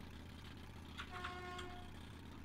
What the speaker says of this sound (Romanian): Trebuie să claxonez.